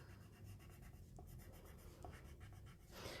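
Soft, steady scratching of a watercolour pencil tip moving across paper in short repeated strokes, close and quiet, with no voices.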